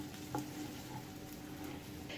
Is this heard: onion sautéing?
yes